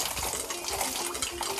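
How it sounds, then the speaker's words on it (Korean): Shower water spraying down onto a worker rinsing off asbestos dust after demolition work, a steady close hiss of running water with no voices. "설치된 샤워기로 온몸을 충분히 씻어주는"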